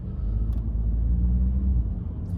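An Audi A3 with a 1.6 diesel engine hums low and steady while driving, a smooth muted rumble with road noise inside the cabin, brief faint clicks breaking through.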